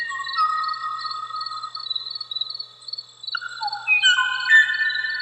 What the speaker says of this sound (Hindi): Number 1, the sound of kovai bird.